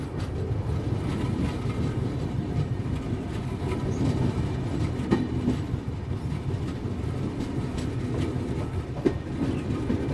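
Continuous rumble and clickety-clack of a passenger train rolling slowly through Pathankot Cantt station, heard from on board, with steady wheel noise and occasional metallic clicks and no talking.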